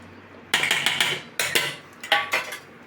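Spices, salt and ginger-garlic-chili paste being mixed into potatoes for bread pakoda, a spoon clinking against a steel bowl in three short bursts of scraping and tapping, close and clear with no talk.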